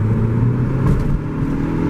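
A Subaru WRX launches hard and accelerates, its engine a steady loud rumbling roar close by that holds through the full run with no break.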